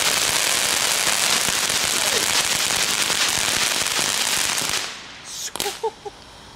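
A consumer firework fountain bought at Albert Heijn, a dense, loud hissing and crackling spray running steadily for several seconds before cutting out, followed by a few faint scattered sounds and brief voices.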